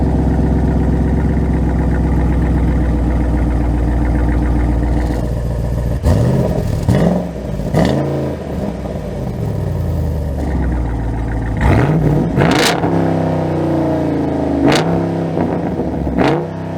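A 2023 Jeep Wrangler 392 V8 idles with a steady deep rumble, then lets out several sharp, loud revs and roaring accelerations, close and alone with no talking.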